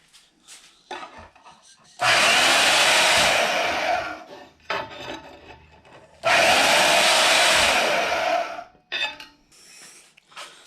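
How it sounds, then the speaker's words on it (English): A power saw cuts flange pieces for a lawn mower intake manifold in two loud, harsh bursts of about two seconds each, separated by quieter handling and clatter of the workpiece. "We'll get ready to cut them on the saw."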